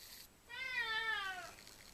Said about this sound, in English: Even Dak the cat wants some